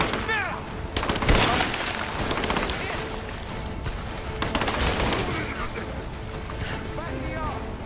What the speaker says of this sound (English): Give me suppressing fire! Now!